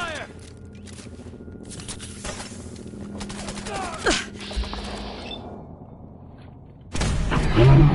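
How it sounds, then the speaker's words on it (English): Rapid gunfire bursts in Fallout 4 crackle through a busy game mix, with mechanical clanks and a loud burst of shooting near the end. "Opening fire!"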